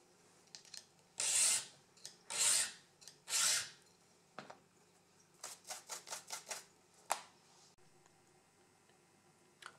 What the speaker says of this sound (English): When filing, make sure you're filing straight on, not under an angle.